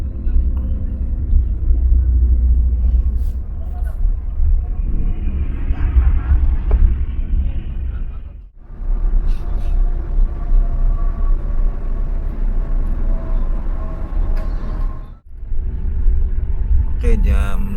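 A Sinar Jaya Suite Class sleeper bus cruises along a toll road, its deep, loud rumble steady and enveloping from inside the cabin, dipping briefly twice. People talk over it.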